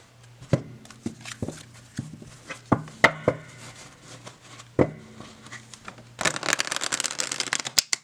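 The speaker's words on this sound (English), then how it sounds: "let's see how it shuffles." Playing cards being shuffled and riffled, with scattered sharp taps and ruffles early on, then a dense, rapid riffling burst near the end, close up.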